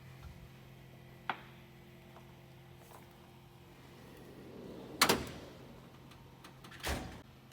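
A drawer on a Snap-on Master Series toolbox slides open, with a faint click early on, then a rolling metal slide and a sharp clunk, followed by a second softer thud in a quiet room.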